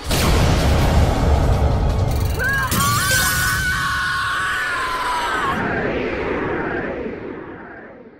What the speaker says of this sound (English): Direct attack!